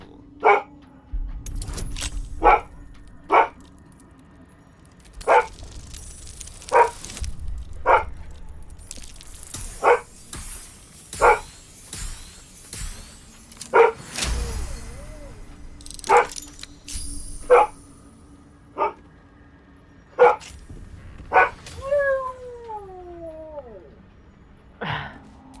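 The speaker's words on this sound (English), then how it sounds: "It's like you woke up and started barking." A dog in the video game Baldur's Gate 3 barks again and again in a steady rhythm, with sharp, clear barks about every second or two over a low ambient game background.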